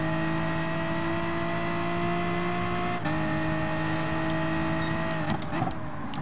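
Race car engine in Gran Turismo Sport holding a steady high drone down a long straight, loud and continuous, with a gear change partway through and a brief shift near the end.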